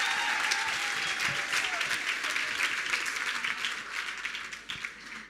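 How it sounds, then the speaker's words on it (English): Lively applause fills the hall at a Women in Tech Africa awards ceremony, honouring a woman. The clapping is dense and loud, holding steady before tapering slightly toward the end. "Please give her another wonderful round of applause."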